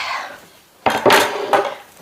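A wooden chopping board set down during fermented cabbage preparation: a few sharp, close knocks and clatters after a quiet moment, with a lighter rattle following.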